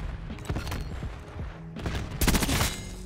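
Rapid video-game gunfire from Black Ops 6, a string of sharp shots in bursts, with a denser, louder volley near the end and no talking.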